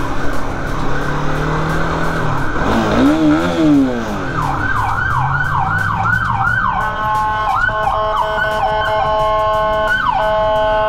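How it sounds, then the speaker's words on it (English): A loud ambulance siren wails close by, sweeping up and down, then shifts into a rapid yelping pattern over steady traffic noise. "ambulance is going to do ambulance things."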